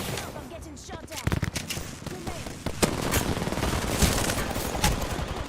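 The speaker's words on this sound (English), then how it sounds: "Help, I'm getting shot at." Gunfire from a shooter video game: scattered sharp shots build into rapid, sustained machine-gun bursts, loud and close, with a voice speaking at times.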